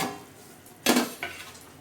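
Metal lid lifted off a pot of chicken biryani, a sharp clatter followed a moment later by a fainter second clink, then quiet room tone.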